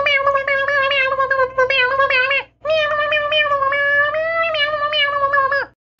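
A human voice imitates a cat singing hip hop, a continuous string of melodic, pitched meows delivered loud and close in two long phrases with a brief pause between them.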